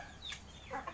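A chicken clucking faintly in a few short bursts, close but quiet, with no talk over it.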